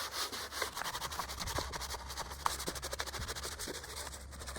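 A brush scrubs the parts of a Ducati Scrambler Icon Dark motorcycle during detailing, making close, steady back-and-forth rubbing strokes in a quick, regular rhythm, with no talking.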